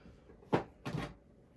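A makeup drawer is opened and shut, giving two short wooden knocks about half a second apart in a quiet room.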